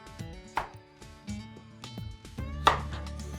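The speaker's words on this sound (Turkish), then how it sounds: "ilk başta bal kabaklarını böyle dilimler halinde kesiyorum" A knife slices through pumpkin on a board while preparing a winter vegetable dish: several separate, crisp cutting knocks at an uneven pace, close and fairly loud, with no talking.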